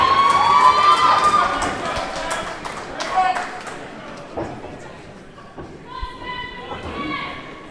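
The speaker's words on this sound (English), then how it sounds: "And the local crowd is loving it." Local crowd cheering at a boxing match between Devin Reti and Antonio Dos Santos, a steady roar of voices with whistles and thuds, fading somewhat midway, heard under a commentator's voice.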